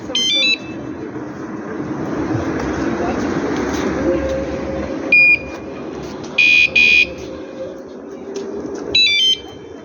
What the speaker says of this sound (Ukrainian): У нас з'явилася велосигналізація. Зараз ми її протестуємо.